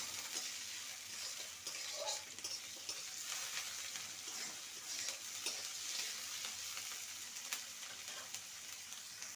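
Sliced onions fry in a pan with a steady, dense sizzle, stirred with occasional soft scrapes against the metal, as the base for a Bengali ridge gourd and potato poppy seed dish. The sizzle is continuous and close, with no talk over it.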